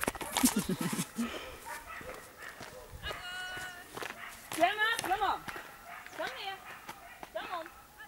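A dog whines and yips in short bursts, with a few rising whimpers, while people talk nearby.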